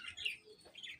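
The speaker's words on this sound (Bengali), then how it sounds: "বাট কেন চিল্লাইতেছে এটাই বুঝতে পারতেছি না" A pet bird calls out in two short bursts of high, bright chirping, the first a bit stronger, heard faintly at a distance with nothing else around.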